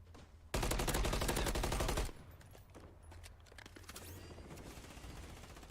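A rapid automatic burst rattles loudly for about a second and a half in Call of Duty Warzone, then gives way to quieter scattered distant shots and background noise.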